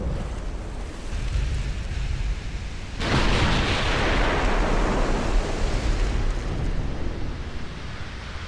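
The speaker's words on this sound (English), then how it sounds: "Okay, that's one torpedo hit." A torpedo strikes a battleship in the naval warfare game Ultimate Admiral Dreadnoughts, a dull boom that swells into a long, rushing roar over constant background sea and battle noise.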